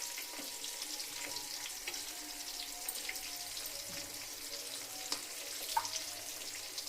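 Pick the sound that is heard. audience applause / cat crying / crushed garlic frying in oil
crushed garlic frying in oil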